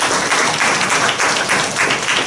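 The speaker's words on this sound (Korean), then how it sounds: "우리 박수하십시다." Church congregation breaking into steady, dense applause during a sermon, a sustained wash of clapping from many hands heard up close and without talk.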